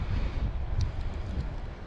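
Gusty wind buffets the microphone outdoors during an e-BMX ride, a steady low rumble rising and falling in strength throughout.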